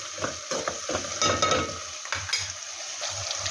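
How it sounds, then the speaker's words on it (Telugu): Onions and green chillies fry in a pan for an okra-tomato curry, giving a steady close sizzle broken by irregular scraping stirs, with no voices. "ఇప్పుడు ఉల్లిపాయలు పచ్చిమిర్చి రెండు ఫ్రై అయ్యేంత వరకు ఉంచాలి"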